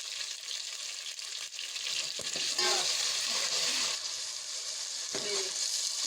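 Whole black cardamom, cloves and bay leaves fry in hot oil for matar pulao, giving a steady, close crackling sizzle with a few louder pops, and no voices.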